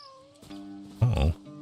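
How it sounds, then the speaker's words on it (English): A creature in the video game No Man's Sky gives a short meow, a brief tonal call swelling loudly near the end, with faint tones and ambience underneath. "It's the kitty. Little kitty."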